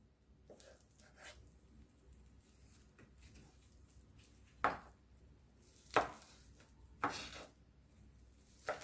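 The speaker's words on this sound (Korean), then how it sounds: "부들 어묵을 반으로 잘라줍니다" Knife slicing Korean fish cake in half on a cutting board: a few quiet, separate thuds and taps spaced a second or so apart against a faint, hushed background.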